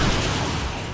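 Cannon fire in Final Fantasy: Crystal Bearers lands as a loud, dense, heavy burst that fills a brief moment, a broad booming wash with no talking over it.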